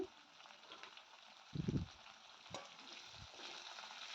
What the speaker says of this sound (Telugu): మొత్తం అన్ని ఉల్లిపాయలని వేసుకున్న తర్వాత మనం ఇలా అయితే ఫ్రై చేసుకోవాలి